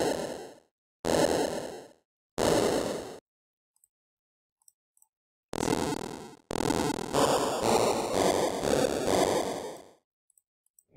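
Noise channel of the Freeboy Game Boy APU emulator in LMMS, played with reverb: several loud, harsh bursts of broadband hiss, three short hits, then a longer buzzy tone and a sustained rough noise stretch, each with a reverberant tail.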